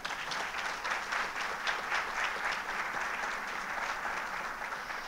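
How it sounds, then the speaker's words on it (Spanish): Gala audience gives warm applause to an honoree's family at a chamber of commerce awards ceremony, a continuous, even roar of many clapping hands at moderate loudness with no talking over it. "solicito un caluroso aplauso"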